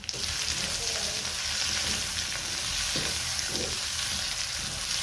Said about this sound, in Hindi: अब मैं डाल देती हूँ प्याज। प्याज को भी अच्छे से फ्राई कर लेंगे।